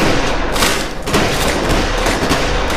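Gunfire in a western film, a loud, dense burst of overlapping shots and booming thuds that barely lets up, close and harsh, with no talk.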